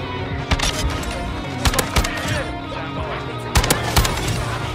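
Rapid-fire shotgun blasts from Call of Duty Modern Warfare II, several sharp loud shots in quick bursts over busy game noise, with a player talking.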